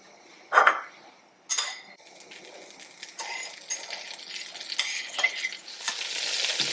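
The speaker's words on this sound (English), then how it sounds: "I'm going to melt some butter, about 4 tablespoons butter," Four tablespoons of butter melting in a pot on the stove, a soft sizzle and crackle that builds steadily, with a few sharp clinks of a utensil against the pot near the start.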